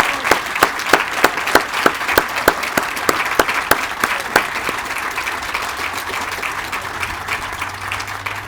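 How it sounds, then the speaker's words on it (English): Applause for military veterans at a Veterans Day ceremony: sharp, rhythmic clapping starts it, then a full crowd claps steadily, fading slightly toward the end, with no talk over it. "please raise your hands if not, so we may applaud you again, please, in recognition"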